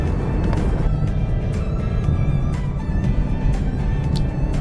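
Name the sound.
BMW 430i Gran Coupe four-cylinder engine rumble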